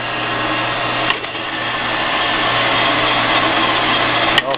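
A 7x12 band saw with a 3-speed gearbox and hydraulic down feed runs steadily, a constant close mechanical whir and hum with two brief clicks, no talking.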